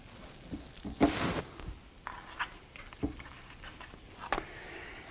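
Frozen sausage links frying in a pan, with quiet crackling and scattered pops and spits over a soft continuous sizzle, one brief louder burst near the start.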